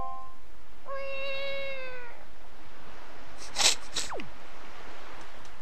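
A cat meows once in The Legend of Zelda: The Wind Waker, a clear, drawn-out game sound over quiet background music, followed by a brief sneeze-like effect.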